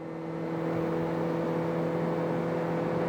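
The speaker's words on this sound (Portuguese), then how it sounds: "vamos acelerar aqui, ó. Tentar buscar o 120" Suzuki Jimny Sierra accelerating on a highway in third gear toward 120 km/h, a steady droning engine hum with road and wind noise heard from inside the cabin, no talk.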